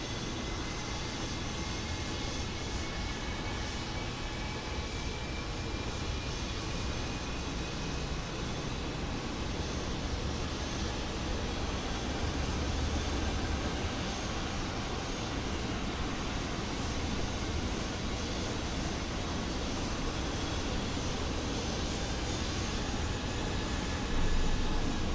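A loud airliner engine in Microsoft Flight Simulator 2024, an SAS A320 near Stavanger, roars in a dense, broadband drone that holds steady for the whole stretch with faint whining tones and no talk.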